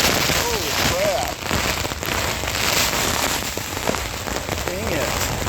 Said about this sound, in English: Lightning all around, strong wind, pouring rain.